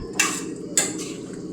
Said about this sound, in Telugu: కొంచెం వాటర్ ఎక్కువ వేసుకోవాలి.